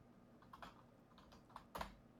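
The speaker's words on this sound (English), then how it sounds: "Furious typing." Rapid, furious typing on a computer keyboard: a quick patter of key clicks in uneven bursts, with a louder cluster of strokes near the end, close and fairly quiet.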